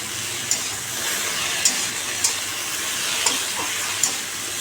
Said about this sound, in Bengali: আর একটু ভাজি, তারপর ঢ্যাঁড়সটা দিয়ে দেবো